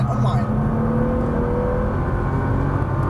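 Nissan GT-R engine pulling hard on a racetrack in Las Vegas, a loud, sustained droning roar heard from inside the car while a voice talks over it.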